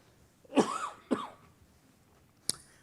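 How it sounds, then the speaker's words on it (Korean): During a church sermon, a preacher gives two quick, close coughs, with a faint click after a short pause in otherwise quiet surroundings. "코로나 때문에 기침하는 거 아닙니다."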